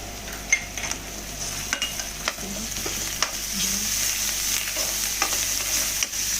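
Turmeric and ginger-garlic paste frying in a pan for egg masala curry, a steady close sizzle with intermittent spatula clicks and scrapes, no voices.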